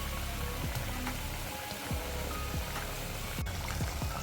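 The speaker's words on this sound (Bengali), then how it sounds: "নুন দেওয়ার পর সমস্ত উপকরণ একবার ভালো করে ফুটিয়ে নেব।" Spicy small-catfish curry with salt and coriander simmering in a pan, a soft continuous bubbling and burbling like trickling water, quiet and steady, with occasional small pops rising through it.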